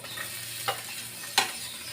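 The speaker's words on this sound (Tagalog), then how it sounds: "Heat 4 tablespoons of oil in a wok. Saute onion, garlic," Onion, garlic and ginger sauté in hot oil in a wok, giving a steady, low sizzle with two brief louder bursts as the pan is stirred. No one speaks.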